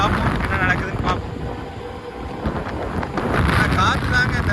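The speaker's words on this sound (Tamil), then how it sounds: "இந்த 1 மணிக்கெலாம் வரும்போது இந்த மாதிரி தான் காற்று அடிக்குது 2 சைடு." Strong wind buffets the microphone during a Honda Activa 6G scooter ride on a long highway trip, a loud gusty rumble that swells and eases, with a voice talking over it.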